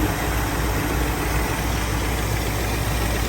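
A steady, low engine idle from a 1976 Ford Bronco's 302 V8 with automatic transmission runs close by without a break, smooth and even throughout with no revving.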